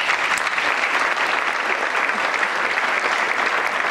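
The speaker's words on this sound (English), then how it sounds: "they deserve a round of applause" Audience applause at a holiday band and strings concert, a steady, dense roomful of clapping sustained at even loudness throughout.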